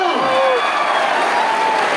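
Audience at an anniversary celebration event claps in loud, continuous applause with a crowd murmur blended in, steady across the short stretch.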